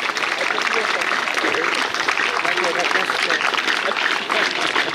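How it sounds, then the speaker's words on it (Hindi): Loud, sustained applause from an audience at a blind cricket association ceremony welcoming the chief guest, a steady wash of clapping with a voice talking over it. "जोरदार तालियां"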